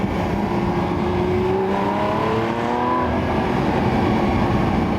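A Lamborghini Aventador SVJ Roadster's engine drones loudly and continuously nearby, its pitch sweeping up and down as it revs.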